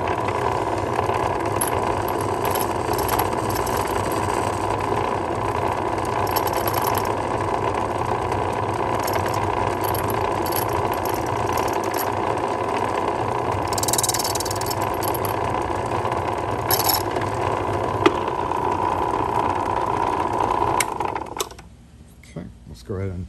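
Key cutting machine shaping a blank for a three-lever desk lock, a steady mechanical whine and grinding hum running continuously for about twenty seconds, close and fairly loud, with faint clicks near the end as it winds down.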